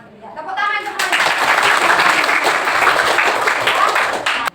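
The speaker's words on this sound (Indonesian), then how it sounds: "tepuk tangan semuanya" Students in a classroom clap together in a sustained, loud burst of applause for several seconds, with voices mixed in.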